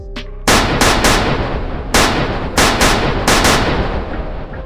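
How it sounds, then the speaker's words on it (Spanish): Gunfire from a firing squad execution, several loud sharp shots in quick irregular bursts, each cracking close and booming before trailing off, with no voices. "Ocho disparos que impactaron en el cuerpo de Wenceslao, tirándolo al suelo terregoso"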